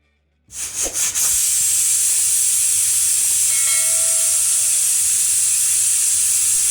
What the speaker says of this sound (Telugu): కుక్కర్ మూత పెట్టి 3 విజిల్స్ వచ్చే వరకు ఉడికించుకోవాలి